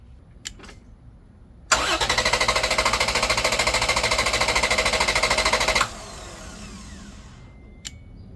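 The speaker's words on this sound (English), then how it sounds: "I'm going to give at least 5 good long cranks just to show that this jump pack will crank this engine without the help of the battery" A truck engine cranks on power from a Lectron S10 4000A jump starter alone, without the main truck battery: a loud, steady, rapid chugging of the starter motor lasting about four seconds, then quieter idle-like hum.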